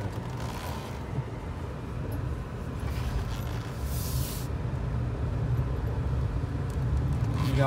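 A car rolls steadily along a narrow village road, its engine and tyre noise a constant moderate rumble throughout with no one speaking.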